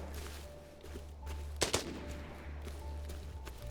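Distant video game gunfire rattles in the background, with a couple of sharper, louder shots standing out from a low steady hum.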